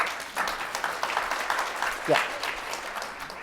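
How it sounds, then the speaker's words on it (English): Audience applause during an innovation and purpose talk, a steady broadband patter of claps sustained throughout, with a short spoken interjection layered over it. "By claps, has that ever happened to you?"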